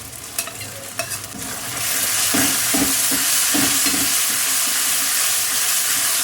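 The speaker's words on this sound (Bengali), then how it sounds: "লাল লাল করে ভেজে নিচ্ছি" Onions sizzle loudly in a pan with chili, ginger and cumin paste, steady frying hiss swelling after a quiet start, with a few scraping stirs in the first seconds.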